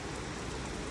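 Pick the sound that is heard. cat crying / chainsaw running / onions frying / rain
rain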